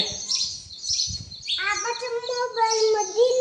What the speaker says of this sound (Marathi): आमच्या चिमण्या यायला लागले